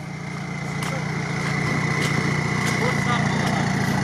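A UAZ off-road vehicle drives itself through a swamp, its engine droning steadily and fairly loud with a continuous hum and a faint whine, while people talk over it.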